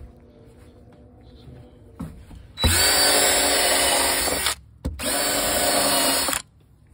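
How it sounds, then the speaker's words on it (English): Power drill with a step bit boring drain holes into a plastic 55 gallon barrel, two loud close high-pitched whining bursts of a few seconds each separated by a brief pause. "I'm using this step bit, which is perfect for drilling in plastic"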